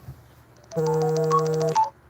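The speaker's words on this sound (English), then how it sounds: "Oh, somebody is calling me." A phone goes off with an incoming call during a livestream, giving one short, clear electronic tone burst of about a second at moderate loudness, alone and without talk.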